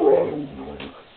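A single dog's bark with a whimpering, whiny tail, fairly close and loud, then trailing off into quieter low sounds.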